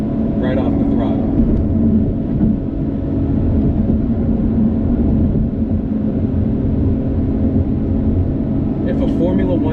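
A 2020 Lotus Evora GT engine on a high-speed run along roads from Brooklyn to Queens, a loud steady engine and road rumble throughout, with someone talking over it.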